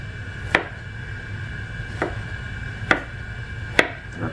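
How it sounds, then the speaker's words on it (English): A knife chops summer squash on a cutting board, with four sharp, close knocks at uneven intervals over a low steady room hum and no talking. "The repetitive motion of chopping vegetables is just therapeutic to me."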